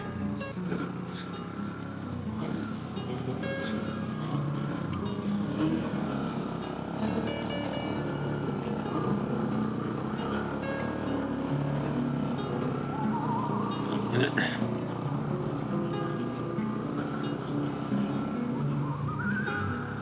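A motorcycle on a rural Punjab road trip pulls away in first gear, a steady near engine drone running throughout with wind rush and no clear breaks.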